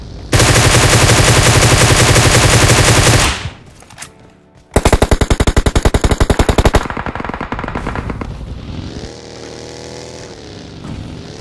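Gunfire in a battle royale video game crackles in loud rapid bursts. A short pause follows, then another long sustained volley, and a quieter mechanical drone trails after it.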